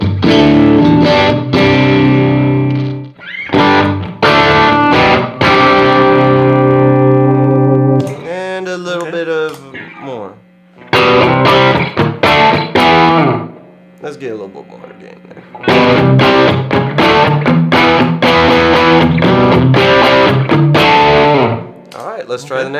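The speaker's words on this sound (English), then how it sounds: "Let's do a Blues Breaker sound just a little." An electric guitar runs through a Blues Breaker amp model on a Vox AC30-style modeler with a little reverb, playing loud, lightly overdriven chords and riffs that sustain and ring, broken by short gaps and softer single-note passages.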